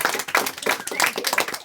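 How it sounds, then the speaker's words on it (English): Scattered clapping from a small audience at a bookstore event, rhythmic and moderately close, with voices mixed in over the brief burst. "can we have either a toast or a nice round of applause or both for Anne for Book Carnival?"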